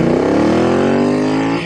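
A Royal Enfield Interceptor 900 motorcycle under way, its engine note loud and close and rising steadily in pitch as it accelerates hard for a brief stretch.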